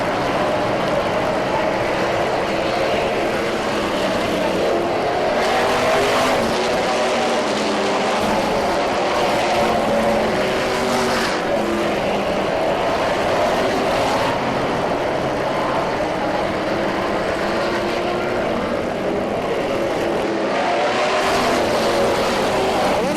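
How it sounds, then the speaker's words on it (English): Stock cars at Seekonk Speedway weekly racing in 1998, a 1937 Chevy Coupe number 36 chasing a 1965 Mustang Fastback, roar continuously around the track, with engine pitch swelling and fading as the cars pass. "he's being chased by the number 36 in that 37 Chevy Coupe"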